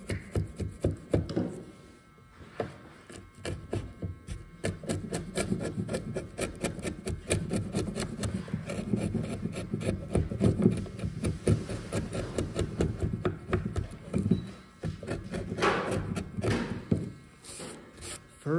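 Hand chisel cutting into wood while building a slab table, a dense run of scraping, rasping strokes and small knocks that carries on steadily throughout, close and fairly quiet.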